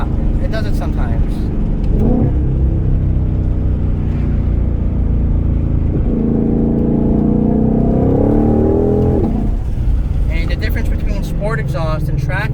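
A 2020 Shelby GT500 with its exhaust in track mode revs in a deep, loud drone that swells and falls across several long pulls, running close and continuous throughout.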